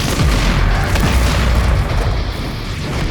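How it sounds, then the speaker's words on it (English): A shotgun blast in Doom Eternal, a loud booming shot with a dense low rumble that fills the moment and carries on under heavy game noise. "Hit him with the shotgun."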